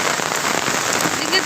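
Heavy rain pours down steadily and close by, a dense, constant hiss of drops hitting the surface with no break.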